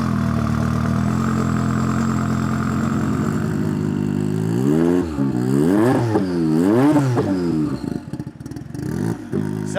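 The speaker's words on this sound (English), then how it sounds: "the engine in this car is a 3-litre V6 twin turbo" Race car with a 3-litre V6 twin turbo engine derived from a Group C unit, idling steadily and then blipped through several sharp rising-and-falling revs, loud and close.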